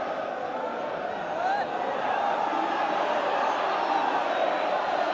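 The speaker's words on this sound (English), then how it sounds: "And crowd saying, get on with it" A football crowd at a Bristol City v Crystal Palace play-off semi-final roars and shouts impatiently, a dense continuous wash of many voices with a commentator speaking over it.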